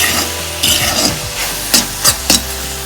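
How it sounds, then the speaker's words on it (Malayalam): Soya chunks are sautéed in a hot pan: a steady, loud sizzle runs throughout while a spatula stirs and scrapes, ending in three sharper scraping strokes. "ഇനി നന്നായിട്ട് വഴറ്റിയെടുക്കണം."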